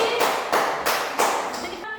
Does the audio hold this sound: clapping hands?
yes